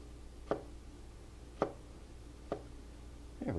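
Knife slicing thin pieces of food on a cutting board, four crisp, evenly spaced taps about a second apart, close and quiet over a low background hum, no talk.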